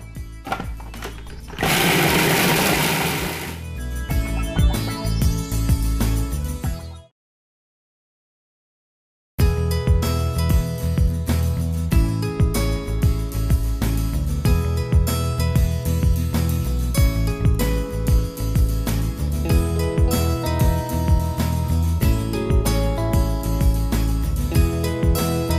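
A food processor grinds dates for a raw cobbler crust in loud, continuous whirring and rattling bursts, briefly stopping for a couple of seconds before running steadily again, close up with no talking.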